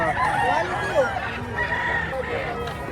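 Chickens cluck and a rooster crows at a busy poultry market in Padre Garcia, Batangas, with several birds calling close by while someone talks over them.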